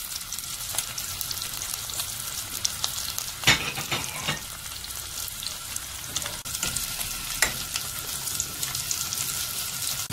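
Garlic, green chili, curry leaves, cinnamon and onion fry in hot oil for a brinjal sambal, a dense continuous sizzle broken by a few louder crackles and stirring clatters.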